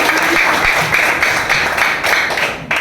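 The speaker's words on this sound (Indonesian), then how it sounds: "Tepuk tangan dulu untuk semua." Students in a university teacher-training classroom give a short burst of applause, a dense steady clatter of many hands lasting a few seconds before tapering off, with no talk over it.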